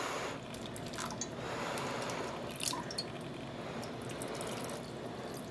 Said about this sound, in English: I mean, I do need to add some liquid down there.